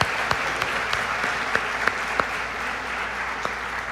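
Congregation applauding at a church service, a steady wash of clapping held at an even level throughout, with a few sharper individual claps standing out.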